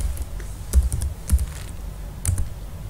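Someone types on a computer keyboard while writing Java code in Notepad: irregular bursts of close, crisp key clicks with a few heavier strikes and short pauses between them. No one speaks.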